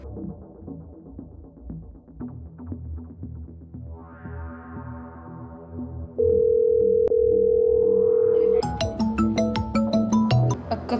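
A ringback tone plays while a call is placed on a phone: a steady loud electronic tone holds for a couple of seconds, then gives way to a chiming ringtone melody, with faint background music beforehand.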